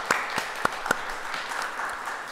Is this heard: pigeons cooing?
no